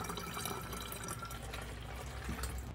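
A quart of cold water is poured into a bottle, a close, continuous gurgling and splashing that lasts throughout.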